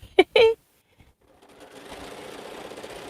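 After a brief spoken phrase, a sewing machine starts up and runs steadily while joining quilt rows at speed, a continuous buzzing hum that builds gradually.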